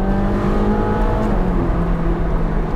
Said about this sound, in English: Down into second, brake into the corner, little bit of throttle on the way out.